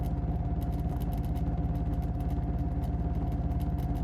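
A motorcycle engine runs steadily on a dark road at night, a loud, even low rumble with rapid regular firing pulses and no change in pace.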